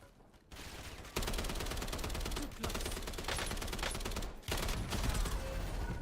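Sustained rapid gunfire from the Warzone battle royale video game roars almost without pause, with dense automatic bursts separated by a few brief gaps, loud and close.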